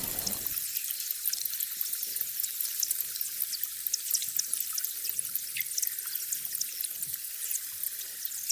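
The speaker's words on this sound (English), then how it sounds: "we can hear the bubbles like here. When the bubbles are on the way up, they give also sound" Air bubbles escaping from ancient glacier ice in Fjallsárlón lagoon make a dense, continuous fizz of tiny crackles and ticks, close and steady with no voices.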